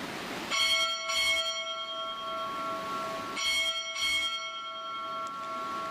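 Four bells rung on a ship's bell during a US Navy Recruit Training Command change of command ceremony: two paired strikes, a pause, then another pair, each ringing on with a bright lingering tone and no talk.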